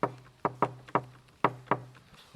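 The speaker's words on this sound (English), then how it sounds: "Knock on the door." Knuckles rap on a front door decorated for Diwali, giving six sharp, close knocks in an uneven rhythm: a pair, then single raps, then another pair, with no talking.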